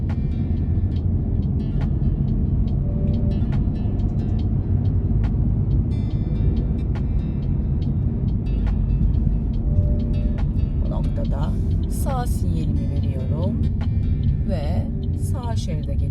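A car driving straight along the left lane at the Beylikdüzü driving test course: a constant close engine and road rumble from inside the cabin, with someone talking intermittently over it.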